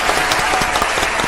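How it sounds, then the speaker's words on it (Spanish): A studio audience at a televised interview bursts into dense, loud applause, with quick overlapping claps filling the whole short moment. "Aplausos."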